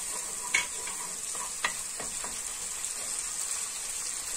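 Pepper paste and tomato paste sautéed with onion and garlic, a soft steady sizzle with a few light spoon scrapes and clicks, two sharper knocks early on, quiet and close with no voices.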